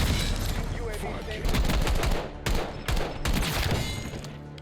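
The Goblin MK2 assault rifle in Black Ops 6 fires in loud, close bursts of rapid shots, with brief pauses between bursts, and a player speaks over the gunfire.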